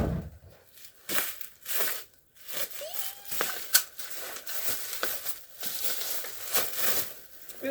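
Paper and packaging crinkle, tear and rustle close by as a wrapped package is opened at home before Christmas, with scissors set aside; irregular crackling bursts come in short bouts throughout.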